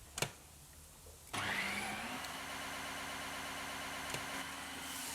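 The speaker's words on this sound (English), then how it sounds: "Put this in the food processor." A food processor blends herbs and chili for a blackened chicken recipe, starting after a couple of sharp knocks and settling into a loud, steady whirring drone that runs to the end.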